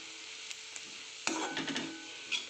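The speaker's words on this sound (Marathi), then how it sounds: "दाण्याचा कूट छान मिक्स करून घ्यायचे." Cluster bean curry with crushed peanuts is stirred in a pan, giving a soft sizzle with a burst of scraping and clattering spoon strokes midway and a few light taps.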